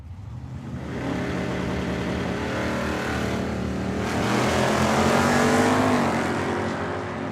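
Two Camaros, a 1978 Z28 and a 1975, idle and rev at the starting line of a drag strip at Tucson Dragway, a loud, steady rumbling engine roar that swells and holds, heard from trackside.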